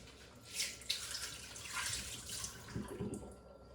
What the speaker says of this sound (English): So I poured the water out